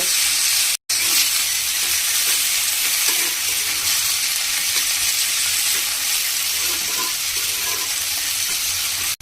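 Boiled spinach leaves frying in a pan over medium-low heat, a loud, dense, even sizzle that runs throughout with faint stirring underneath and one brief dropout near the start.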